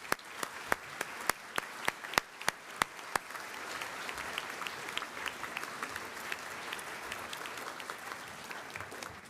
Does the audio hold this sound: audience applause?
yes